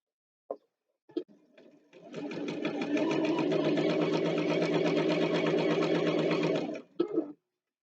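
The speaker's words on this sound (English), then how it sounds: "we keep on sewing the edge, just the edge." A sewing machine stitches along the edge of a scrunchie, running in one steady whirring burst of about five seconds, with a few clicks and handling knocks before and after.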